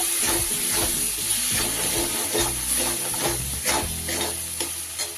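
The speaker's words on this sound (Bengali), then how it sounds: "এবার সব কিছু খুব ভালোভাবে কষিয়ে নিচ্ছি" Ground coriander, cumin and turmeric stir-fried in a pan with constant loud sizzling and repeated spatula scrapes and stirring strokes close up, no talk.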